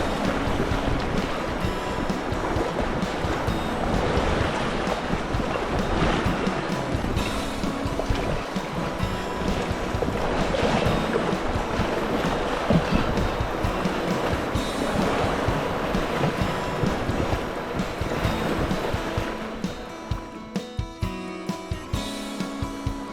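Fast water of a narrow river rushes steadily and loudly against a boat close by, with wind buffeting throughout; the roar eases slightly near the end.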